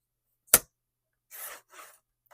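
Planner paper cut along a marked line, one sharp close snip followed by two softer rustling scissor cuts and a faint final click, with silence between.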